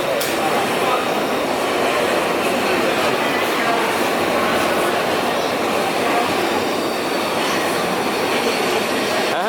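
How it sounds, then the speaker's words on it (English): A Glasgow Subway train on its last day of second-generation stock service rushes through the station without stopping, a loud steady roar of wheels and rushing air filling the platform throughout, with faint squeal and rattle. "The train just whizzed past through without stopping at the platform"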